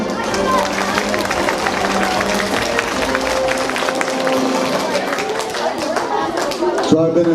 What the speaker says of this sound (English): Graders, another round of applause.